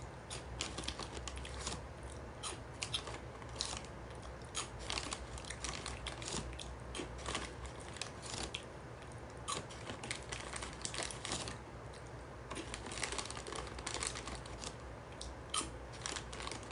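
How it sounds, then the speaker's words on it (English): Dry cereal eaten straight from the box without milk, a quiet, close series of irregular crunchy bites and chews that repeat steadily. "Anybody else like to eat dry cereal like this?"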